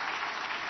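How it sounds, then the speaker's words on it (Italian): Audience applause for Monti during a comedy segment on an Italian TV show, steady dense clapping filling the whole short moment without a break. "facciamo un altro applauso per Monti"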